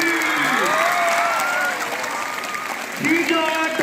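Students applaud during a school election assembly at a model school in Shabad, with clapping mixed under a loud voice speaking over it.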